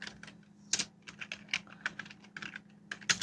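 Keywords typed on a computer keyboard, a quick irregular run of close, crisp key clicks with a few louder strikes, no voices.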